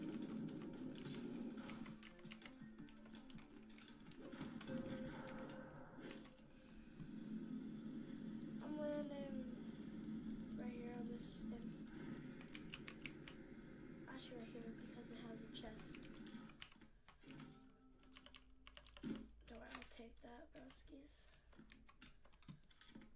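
Computer keyboard keys clatter in quick, irregular bursts during PC gameplay, fairly close and moderately loud, mixed with game sounds and some talking.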